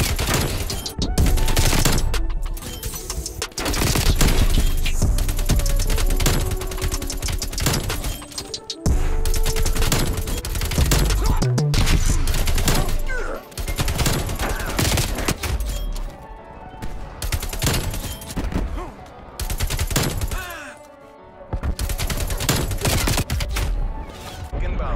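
Dense, loud AK-74 gunfire in Black Ops Cold War, with long sustained bursts of rapid shots broken by short pauses, plus occasional thuds and in-game voices.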